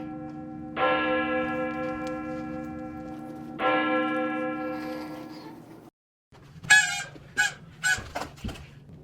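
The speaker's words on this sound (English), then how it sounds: "Ring the alarm bell." An alarm bell at Dunsinane castle in a staging of Macbeth rings two loud, resonant strokes that hum and slowly fade, followed after a pause by a burst of harsh honking calls.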